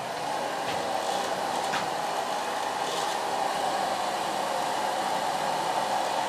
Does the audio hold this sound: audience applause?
no